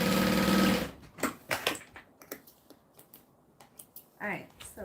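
A sewing machine stitches fabric with a brief loud whirring run at the start, followed by softer clicks and fabric handling, and a voice talks over it.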